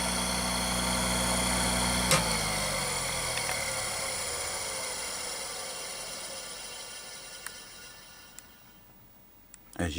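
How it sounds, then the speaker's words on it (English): The motor of a reel-to-reel video recorder runs with its spinning heads, a steady close mechanical hum and whir that slowly winds down and fades, with a few faint clicks and a sharper knock at the very end. "you can hear the motor. The motor's on, and there's heads that are spinning there"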